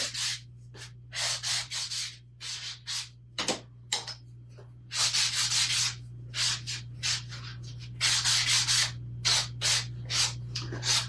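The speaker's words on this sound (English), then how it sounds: "Just over here, trying to make slivers with a sander." A power sander grinds raw carrots into slivers in short, rough bursts of abrasive whirring, stopping and starting irregularly over a steady low hum, close and fairly loud.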